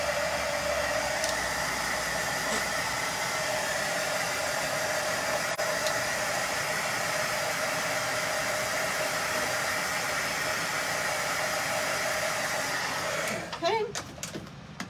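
A hair dryer blows steadily to dry paint on a craft stocking, a loud continuous airy whir held close for about thirteen seconds before it cuts off into a few handling clicks.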